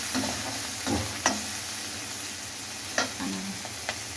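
Vegetables sauté with salt in a pan for sambar rice. A soft, steady sizzle runs under a few distinct scrapes and knocks of a spoon stirring against the pan.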